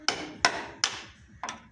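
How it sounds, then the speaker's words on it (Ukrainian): A hammer pounds on a front suspension part of a Volvo XC90 during a bushing replacement on the stabilizer or active link: four loud, close metallic blows at uneven intervals, each ringing briefly. "приходится робити молотком"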